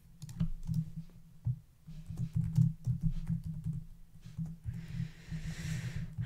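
Typing on a computer keyboard while writing stories: quick, soft clicks in irregular bursts close to the microphone, over a low steady hum, with no talk.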